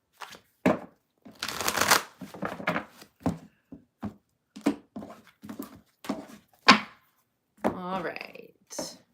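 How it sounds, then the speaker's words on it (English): Tarot cards are shuffled in quick riffling bursts, interleaved with a person talking close by. "I'm going to shuffle and move on to Leo."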